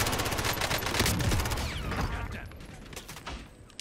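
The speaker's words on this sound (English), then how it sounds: "it's just the people he was shooting at now" Gunfire in the video game Warzone, rapid bursts of shots crackling in a dense volley that thins out toward the end.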